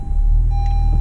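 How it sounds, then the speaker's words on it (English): A 2016-or-later Honda Civic with a manual clutch starts up, settling into a steady, close, low engine rumble with a fast even pulse running through the whole second. "And that's how the car will start."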